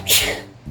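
A single sharp sneeze, loud and close, bursts out and fades within a moment, heard indoors on Thanksgiving Day.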